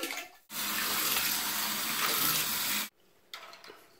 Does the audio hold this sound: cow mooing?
no